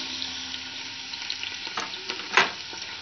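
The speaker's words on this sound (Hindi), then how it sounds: "तेल हमारा गर्म होना स्टार्ट हो गया है" Hot oil sizzles and crackles in a pan while onions start frying for a Lahori street-style white chickpea curry, with close steady frying hiss and a few sharper pops and stirring scrapes.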